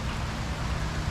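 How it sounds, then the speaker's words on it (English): Sudden heavy rain pouring down at Flamingo Gardens in Florida, a dense steady hiss of drops on foliage and surfaces, close and continuous. "All of a sudden it just started like raining like crazy."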